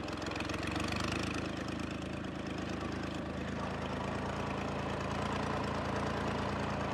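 A tractor engine runs steadily nearby on a farm field planted with marigolds, a continuous mid-pitched chugging drone at an even level for the whole stretch.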